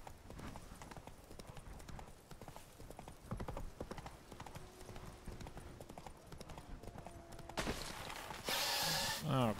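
Horse hooves clip-clop at a steady gallop across a video game world in The Witcher 3, loud and continuous, with a brief burst of louder game noise near the end and a voice talking over parts of it.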